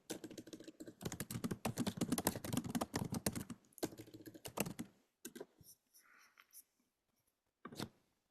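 Rapid clicking of computer keyboard keys in dense bursts, close and quiet, with brief pauses and a few isolated taps near the end.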